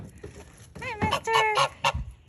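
A rooster on its first day outside gives a short run of clucks and honking calls, close and fairly loud, with a few separate bursts after a quiet start.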